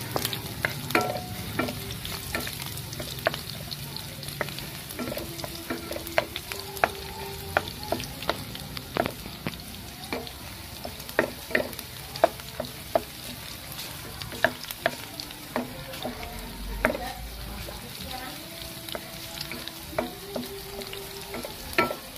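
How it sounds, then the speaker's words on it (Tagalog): Garlic sautéing in a pan for burong Kapampangan, with a steady sizzle and frequent scraping, clacking stirs of a utensil against the pan throughout, close and without talk. "Gigisa po tayo ng bawang"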